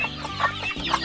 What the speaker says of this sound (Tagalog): Yan po yung mga alaga ating manok dito